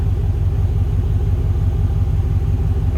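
A 2006 Pontiac Grand Prix GXP with a 5.3-liter V8 idles with a deep, steady, loud low rumble heard close up from the rear, with no talking.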